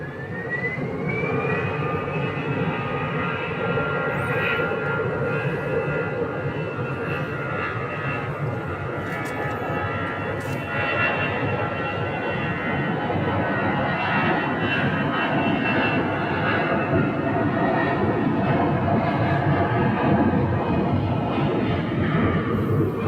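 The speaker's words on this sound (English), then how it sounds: "Another little American Airbus right there." An American Airlines Airbus jet flies over Phoenix airport at sunset, a loud, continuous engine roar and whine that holds steady throughout at moderate distance, with faint voices underneath.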